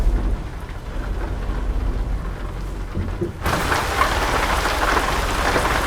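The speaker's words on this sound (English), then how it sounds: "Oh, it's raining hard outside." Steady, heavy rain pours down in a truck driving video game, hissing broadly, and grows louder and brighter partway through, with low rumbling underneath.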